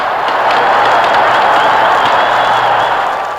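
A hockey arena crowd roars in uproar after a goal ties a 1966-67 Maple Leafs game 1-1, a dense, loud, continuous wash of cheering and applause that holds steady throughout.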